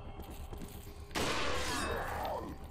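A sniper rifle fired in the Resident Evil 4 video game: a single sharp, loud blast that rings out and decays over about a second, following quieter low game ambience.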